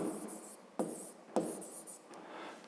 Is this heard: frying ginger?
no